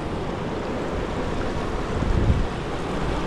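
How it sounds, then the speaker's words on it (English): A river flows at a campsite in a steady broadband rush, with wind buffeting the microphone and a slight surge near the end, and no talking. "here we are at the river"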